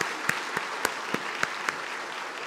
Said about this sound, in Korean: 박수 한번 올려드리겠습니다.